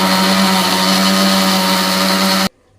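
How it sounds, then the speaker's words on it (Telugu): An electric mixer grinder whirs steadily and loudly, blending green masala paste of herbs with a little water for chicken, then cuts off abruptly into near silence. "ఇప్పుడు మిక్సీ పట్టుకోవాలి."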